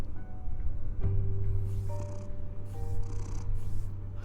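A cat purrs in a steady low rumbling loop for several seconds, close and continuous, with faint soft game sounds layered above it in Batman: The Telltale Series.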